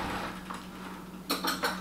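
A metal spoon is passed over and clinks against other cutlery and dishes in a home kitchen, giving a few bright, close chinks near the end after a quiet moment.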